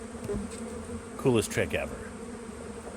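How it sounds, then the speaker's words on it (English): Honey bees buzz around a newly installed hive from a package of bees, a faint steady drone under a brief spoken line. "But take a look at the bee traffic now."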